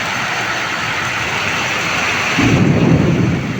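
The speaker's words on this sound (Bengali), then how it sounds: "কত জোরে বজ্রপাত" A steady downpour hisses through a stormy night, then a deep roll of thunder swells in near the end and rumbles loudly under the rain.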